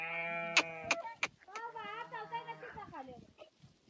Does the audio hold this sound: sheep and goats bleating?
yes